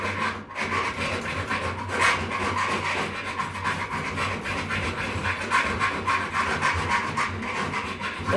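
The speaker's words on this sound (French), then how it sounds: "Un petit coup de lime." A coarse bastard file rasps back and forth along the metal edge of a survival shovel, rhythmic scraping strokes repeating close up with no talk.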